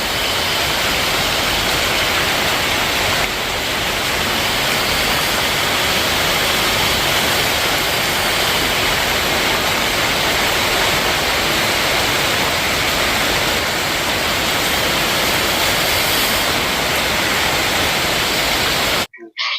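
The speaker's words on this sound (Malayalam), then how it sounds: "അപ്പളേക്ക് നല്ലൊരു മഴ പെയ്തു." Heavy rain pours down steadily in a dense, unbroken hiss that fills the whole space, loud and constant, with no voices over it, and it cuts off abruptly at the very end.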